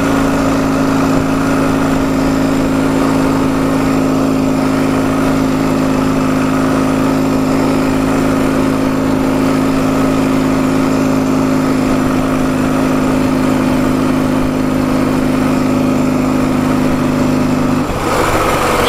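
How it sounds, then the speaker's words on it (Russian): Close up, a faulty motorcycle engine that won't pull drones loudly and steadily. Near the end its tone drops suddenly as it loses power. "Все, мотор тухнет."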